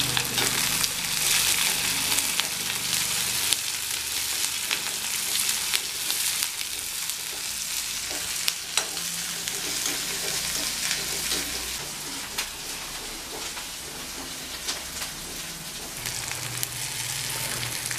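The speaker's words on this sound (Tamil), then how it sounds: "பச்சை மிளகாய், வெங்காயமும் கொஞ்சம் வதங்கிடுச்சு" Green chilies and onions sauté in a pan for an Onam-style Tamil dish, giving a steady close sizzle with intermittent stirring scrapes throughout, and no one speaking.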